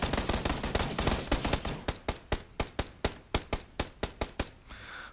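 Gunfire in PUBG on Xbox: a rapid burst of sharp, loud shots gives way to a steady run of evenly spaced single cracks, ending abruptly.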